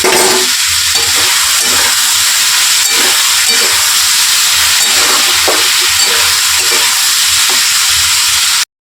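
Chopped tomatoes with half a spoon of salt cook in a pan for a vegetarian poppy-seed ridge gourd dish, giving a steady close sizzle and hiss that runs unbroken with no talking.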